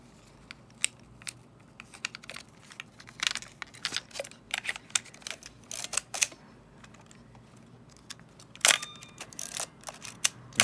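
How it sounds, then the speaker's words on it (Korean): A Fujifilm STX-2 35mm film SLR is worked by hand, the film advance lever ratcheting and the shutter clicking in a loose series of close, sharp mechanical clicks and rasps with quiet gaps between. "감아주시고 셔터 눌러주고 또 감아주고 셔터 눌러주고."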